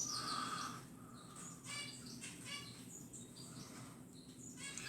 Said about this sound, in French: Ah ouais, c'est beau hein, les oiseaux.